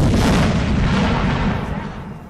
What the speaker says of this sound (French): je crois que c'est un canon de 3 livres, ça